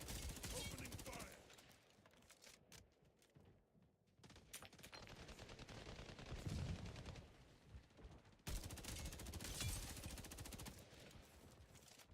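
Rapid bursts of automatic gunfire from a video game crackle loud and close, coming in dense volleys with brief pauses between them.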